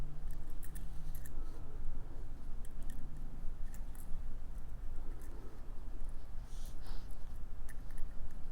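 Thin jewelry wire being snipped with small cutters, several sharp close clicks spread across a quiet room hum; no voices.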